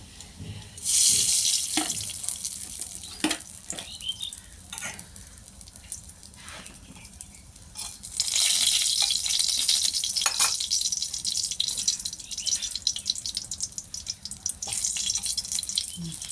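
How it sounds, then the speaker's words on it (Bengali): Chili and tomato hitting hot oil in a pan for a Bengali sesame eggplant dish, a loud close sizzle that swells twice into a roaring, crackling fry and stays steady with occasional spatters. "একটু লঙ্কা ফোড়ন দিলাম এবার আমি টমেটোটা দেবো"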